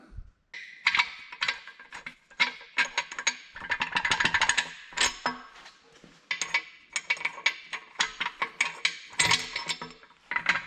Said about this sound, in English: Chase some threads here while I'm at it.